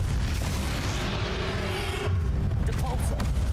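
A Confringo blasting spell fired in the Hogwarts Legacy video game lands as a heavy, sustained rumbling explosion. The boom rolls on and then swells again near the end, with game sound effects layered over it.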